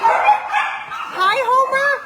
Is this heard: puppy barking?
yes